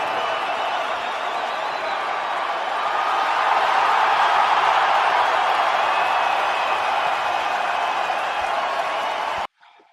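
An arena crowd's broad applause and cheering at a hockey game swells to a sustained roar, loud and dense throughout, then cuts off abruptly at the end.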